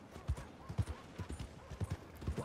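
Horse hooves clip-clop in a steady, uneven gait from a starting horse in Red Dead Redemption 2, the thuds fairly close and moderately loud with a faint gap-filled background, no talk over them.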